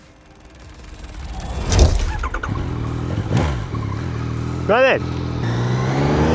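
A 2025 Yamaha MT-09 motorcycle engine revs in a few sharp bursts close by, then pulls away with rising pitch, while a rider speaks briefly over it.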